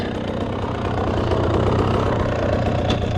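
A dirt bike engine running steadily, a loud continuous low rumble with no pauses, heard close and alone without talk.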